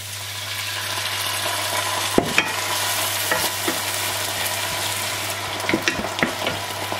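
Steady broadband sizzle of white wine hitting a hot pan for steamed mussels, with occasional clinks and stirring scrapes, close and fairly loud, no voices.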